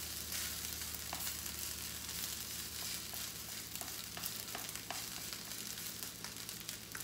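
Rice frying in a wok while being pushed aside to the edges, a quiet continuous sizzle with occasional light scraping and stirring clicks over a low steady hum.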